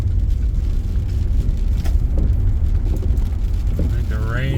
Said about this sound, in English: I think the rain has caught up.